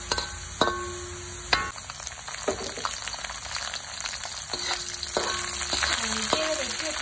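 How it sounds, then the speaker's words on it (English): Chili and ginger fry in a pan for a fish dish, with a steady sizzle under several sharp clanks and scrapes from stirring. "Now that our ginger has changed in color, we're gonna now add the chili to it."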